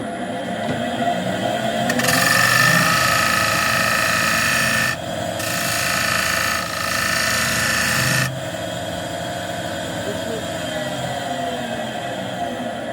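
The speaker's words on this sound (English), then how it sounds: "I'm going to use the 1/2-inch bowl gouge" A half-inch bowl gouge hollows an old wooden bowl on a lathe, making a loud continuous rasping cut that stops briefly midway and then resumes. The lathe keeps humming underneath throughout.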